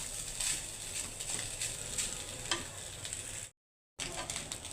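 Leftover rice is stir-fried in a pan, with a spatula scraping and stirring rhythmically over a steady sizzle, close and moderately loud, broken by a short silent gap near the end.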